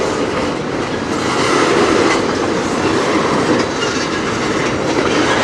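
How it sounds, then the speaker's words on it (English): A slow-moving CSX freight train rolls past nearby, a loud continuous rumble of wheels and rail cars with faint clickety-clack and occasional squeal, steady for the whole stretch without any talking. "New slow moving CSX."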